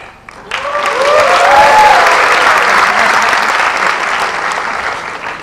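A crowd breaks into loud, sustained applause that swells quickly and holds steady, with a few whoops rising over the clapping.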